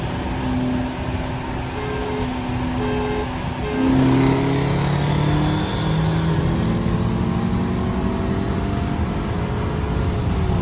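Hyundai Genesis sedans, one a 2012 model with an 8-speed automatic, accelerating hard in a race, engine drone climbing through gear changes, steady and fairly loud.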